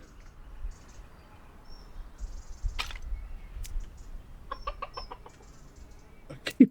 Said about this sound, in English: I keep hearing chickens